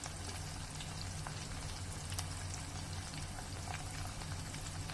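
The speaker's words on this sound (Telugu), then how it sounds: "చూడండి ఎలా సౌండ్ వస్తుందో వేగుతున్నప్పుడు." Dried prawns frying in a pan on a slow flame, giving a steady, even crackling sizzle with dense fine pops at moderate loudness.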